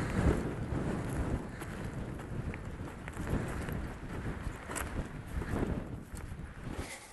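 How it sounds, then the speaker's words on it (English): Strong wind blows across open shale ground while people hunt for agates, gusting and buffeting the microphone in a continuous low roar. "Very windy."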